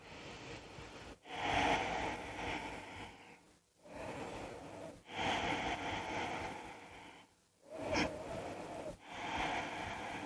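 Deep, slow breathing during a yoga moon salutation, three long audible breath cycles that swell and fade close to the microphone, with no talking.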